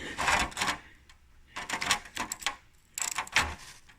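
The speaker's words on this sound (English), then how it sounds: "I'm just going to use a 17mm socket" A 17mm socket wrench works on the oil drain bolt of a Suzuki Marauder GZ 250 motorcycle, giving close bursts of sharp metallic ratcheting clicks in three uneven clusters separated by brief pauses.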